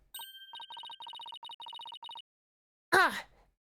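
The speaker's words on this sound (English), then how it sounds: "that jingling must have come from Abbot Inme's bells" Game sound effect of jingling bells in Ace Attorney Spirit of Justice, a rapid run of bright electronic chimes in short bursts, then a brief sharp swooping sound after a pause.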